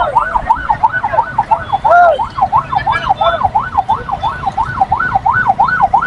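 An ambulance siren wails, rising and falling in a steady, rapid cycle, fairly close and loud, with traffic rumble underneath.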